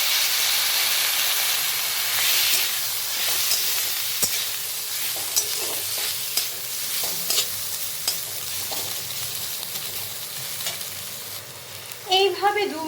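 Vegetables frying in a pan for Masala Maggi with a splash of vinegar just added, giving a loud continuous sizzle and hiss, with stirring scrapes and a clatter near the end.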